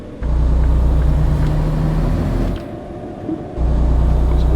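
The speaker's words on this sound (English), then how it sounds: "hit that J brake at the training ground" A Western Star 49X truck in American Truck Simulator growls steadily with a deep engine brake rumble. The drone dips briefly in the middle and then returns at full strength, with no talking over it.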